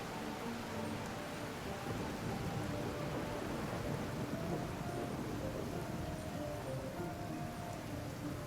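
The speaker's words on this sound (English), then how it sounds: "I love listening to the rain from the courtyard" Steady rain falling on a courtyard in the video game Genshin Impact, a constant dense wash of drops with a low rumble beneath, even and unbroken throughout, no voices.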